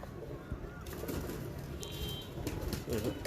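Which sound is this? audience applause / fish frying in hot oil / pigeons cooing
pigeons cooing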